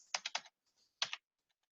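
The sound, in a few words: typing a password on a computer keyboard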